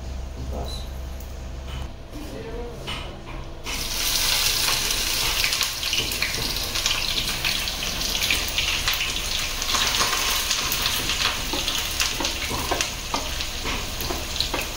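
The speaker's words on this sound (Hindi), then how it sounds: "तो ये पूरा ओनियन कट के हो चुका है, अभी इसको फ्राई करेगा।" Chopped onions frying in a pan for homemade mutton biryani, a quiet start giving way to a loud, steady sizzle with crackling spatter that continues to the end.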